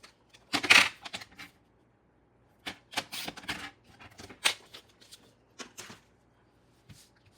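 Paper is being trimmed for a 12x12 scrapbook layout, heard as a scattering of short, crisp cuts and handling rustles in separate bursts with quiet pauses between, close and fairly soft.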